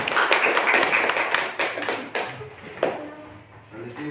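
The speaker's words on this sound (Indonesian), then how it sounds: "Kita beri tepuk tangan dulu." A school classroom claps for a student group presenting on learning during COVID-19, a short burst of hand claps that thins out and fades, followed by scattered taps and low room noise.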